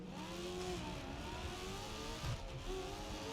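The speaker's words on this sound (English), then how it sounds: "This thing sounds like a muscle car." Muscle car engine in the racing game Grid Legends revving and changing pitch continuously, a loud sustained roar with rising and falling tones and no talk.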